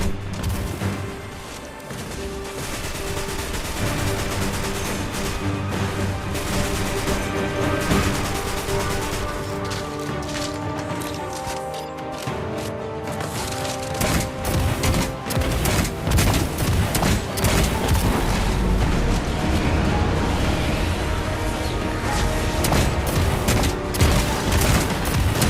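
Dense, sustained gunfire and explosive booms from the Destiny Rising video game during a boss fight against a Fallen Walker, loud and continuous with heavy rapid bursts throughout and only faint voice underneath.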